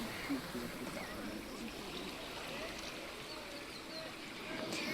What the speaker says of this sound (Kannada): ಆ ಅಲೆಗಳ ಸೌಂಡ್ ಅಂತ ಕೇಳೋಕೆ ಒಂಥರ ಹಿತವಾಗಿ ಚೆನ್ನಾಗಿದೆ